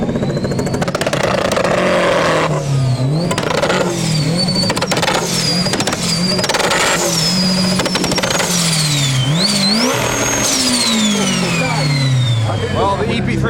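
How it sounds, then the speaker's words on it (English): Boosted K20 engine in an EP3 Civic Type R with a screamer pipe out the side, revved hard and repeatedly in loud, sweeping rises and falls, with shrill whistling overtones and talk mixed in. "It's got a boosted K20 EP3 Civic Type R with a screamer out the side here."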